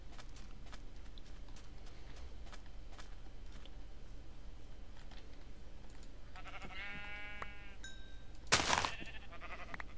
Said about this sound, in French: il y a des moutons. Cool.